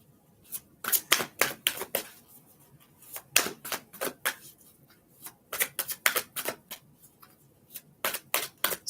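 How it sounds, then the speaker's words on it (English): Tarot cards are riffled and shuffled in repeated quick bursts of crisp flapping, close up, with short pauses between bursts and no talking. "Give it another shuffle."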